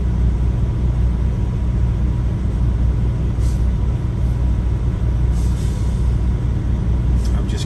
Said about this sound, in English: he's going to attempt to do a back here between two trucks